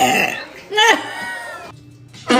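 Loud, close burps break out in a burst, with a voice and squeals from children in a home mixed in around them.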